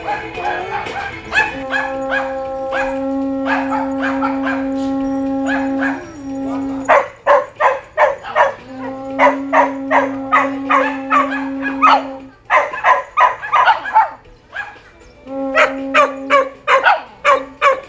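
Dogs bark repeatedly in bursts, with howl-like sustained tones and yips mixed in, fairly close and loud.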